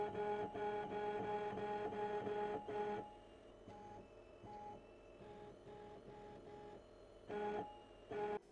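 A FoxAlien XE-PRO CNC router jogs its axes toward the center of the table bed, quiet stepper motors whining in tonal bursts that start and stop, with a longer run followed by several short moves.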